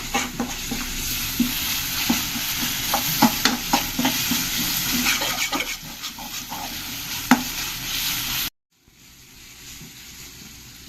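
Onions frying in a little oil, a steady sizzle with repeated stirring scrapes and clinks close by, ending in a sudden cut to near silence.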